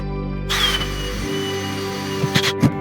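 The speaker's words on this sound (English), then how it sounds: "Because I drill that hole" A power drill whirs steadily drilling a rivet hole in the metal hull of a small jon boat, with a higher whine in the first moment and a few sharp clanks near the end.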